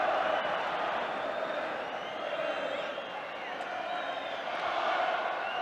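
Crowd of nearly 47,000 at an FA Cup quarter-final football match, Manchester United v West Ham United at Old Trafford, a steady dense roar of voices throughout, broad and continuous with slight swells.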